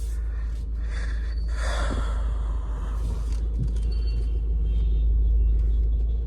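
A Tata Sierra driving at night, with a steady low rumble of engine and road noise close inside the cabin and a few brief breathy sounds over it, no speech.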